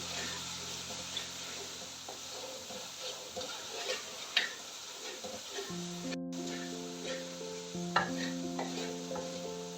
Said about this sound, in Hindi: हम मसाले की अच्छी सी बुनाई कर लेंगे।